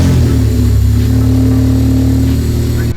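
A Honda Civic EK9 Type R engine running with no exhaust fitted, only a bare manifold, gives a loud, steady, raw drone close by, then cuts off abruptly at the end.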